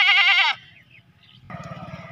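A goat bleats loudly once at close range, a wavering, shaky cry, then brief quiet before a lower, rougher bleat or grunt from the livestock.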